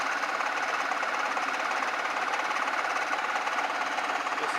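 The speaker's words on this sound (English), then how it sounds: "Really hard to crank the lathe and hold you at the same time" A Craftsman 109 manual lathe being hand-cranked gives off a steady, dense mechanical whirring and rattling that holds at constant loudness throughout, close and alone with no talk.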